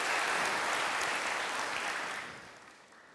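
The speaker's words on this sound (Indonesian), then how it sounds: "Kita beri tepuk tangan buat Tuhan." A church congregation claps during a sermon, a full, close burst of many hands that holds for about two seconds and then fades away.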